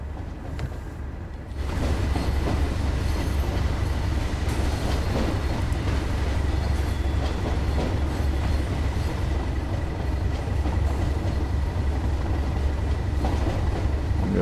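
A simulated train on the Tees Valley Line in Train Sim World 2 rolls steadily along the track, giving a continuous low rumble with rhythmic wheel clatter that stays loud throughout and has no speech.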